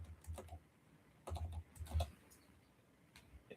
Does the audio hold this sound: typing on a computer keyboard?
yes